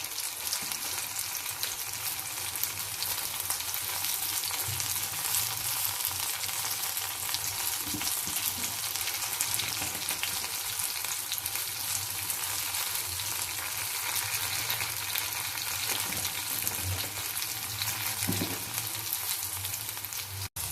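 Onions and green chillies frying in a pan with salt and turmeric, a steady, close sizzle running throughout with occasional faint stirring scrapes and no talking.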